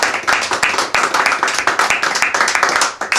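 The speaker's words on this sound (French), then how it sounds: "on peut vous applaudir" Studio audience applause at a radio call-in card game, dense continuous clapping from many hands, close and loud, holding steady throughout without fading.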